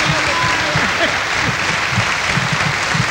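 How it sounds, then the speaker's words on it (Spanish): Loud, continuous audience applause at a live comedy-music performance, a thick wash of clapping sustained throughout, with indistinct crowd voices underneath. "En esta parte viene aplauso."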